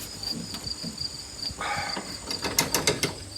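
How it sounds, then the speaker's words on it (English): Ratchet clicks work loose the upper control arm bushing bolts on a rusted vehicle front end, short bursts of ticking and metallic clatter over a steady high-pitched background hum. "the first step is to try to get these upper control arm bushing bolts nuts off"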